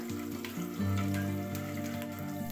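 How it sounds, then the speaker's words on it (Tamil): Six slit green chillies frying in a pan for chicken biryani, a soft steady sizzle close by, faint under sustained background music. "பச்சை மிளகாய் 6 சேர்த்து நல்லா ஃப்ரை பண்ணிக்கிறேன்"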